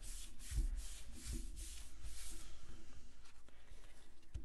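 A hand rubs back and forth across the back of stamped paper, producing soft, close, rhythmic scuffing strokes that quicken into a steady brisk rubbing toward the end.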